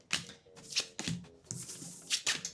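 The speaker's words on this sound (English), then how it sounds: "you begin by shuffling your deck" A deck of game cards being shuffled by hand for a card game setup, with several quick riffling bursts and soft slaps close by, no talking.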